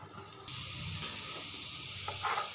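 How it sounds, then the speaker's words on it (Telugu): Chopped onions drop into hot oil in a pan for mutton keema curry, setting off a sudden loud, continuous hiss and sizzle that stays steady for a couple of seconds. "తర్వాత ఆయిల్ వేడికిన తర్వాత ఆనియన్స్ వేసేసుకుందాం"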